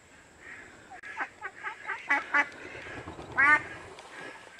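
Several six-month-old ducks quack in a run of loud, close honking calls, coming in short bursts with brief gaps, clearer and louder toward the end.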